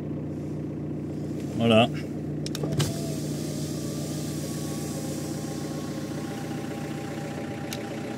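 A car engine idles unevenly in neutral just after start-up, running rough and misfiring while giving off smoke. The steady, close mechanical drone continues throughout, and a brief word is spoken early on.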